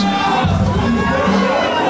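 Wrestling fans at a tag team championship match cheer and roar as a loud, steady crowd, with continuous noise and shouts filling the arena throughout.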